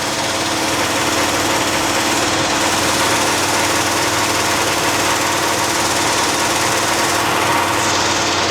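A car engine runs steadily with a light, rapid lifter tick, a continuous close mechanical drone that holds even from start to finish with no voices.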